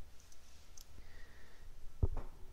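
Mouse clicks in SPSS statistics software: a couple of short, crisp clicks close together near the end, standing alone over quiet room hiss.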